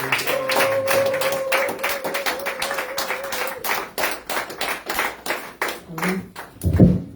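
Church congregation applauding rhythmically at a Sunday service in Baltimore, steady clapping throughout with sustained organ or keyboard notes and a sung voice over the first half, ending in a louder burst.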